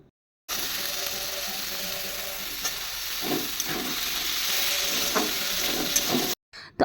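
Steady loud sizzle of potato, carrot, tomato and peas frying in a pan for vegetarian chow mein, a continuous hiss with occasional stirring scrapes, stopping abruptly near the end.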